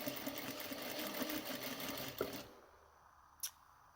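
A sewing machine stitches piping onto bright orange fabric in a steady, fast mechanical run lasting a couple of seconds, then stops abruptly and leaves near silence with one small click.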